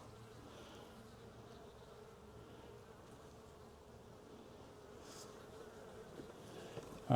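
Honey bees from a failed beehive, with wax moths moving in, buzz in a steady, dense drone that holds at an even level, close and continuous throughout with no talking.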